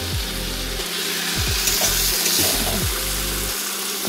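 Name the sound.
fish heads frying with spice paste in a pan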